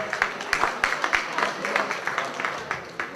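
Applause from an audience at a school gala evening at a lycée, steady dense clapping with a few sharper close claps standing out, moderately loud throughout.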